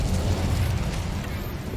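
A fire spell, Incendio, cast in the game Hogwarts Legacy, erupts as a loud, roaring burst of flame that surges and holds steady for nearly two seconds, with a deep rumbling body and no talk over it.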